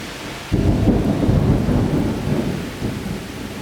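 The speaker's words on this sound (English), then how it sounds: "It's raining literally like cats and dogs." Heavy rain pours down during a severe thunderstorm. Soft hiss first, then thunder breaks in loudly and rolls on as a deep rumble under the steady downpour, with no talking.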